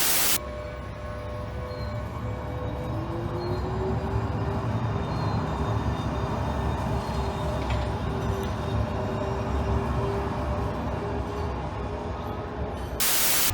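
A Sheffield Supertram tram at Cathedral stop produces a steady, loud mechanical rumble with a gently rising whine running through it, continuous and close, with no voices.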